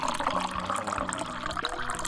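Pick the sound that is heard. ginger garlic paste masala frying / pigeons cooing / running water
running water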